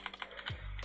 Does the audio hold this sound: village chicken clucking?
no